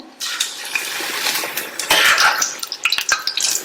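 Stuffed chilli bajji fry in plenty of hot oil, a loud close bubbling sizzle that swells when the fritters are turned, with light clinks of a slotted spoon against the pan.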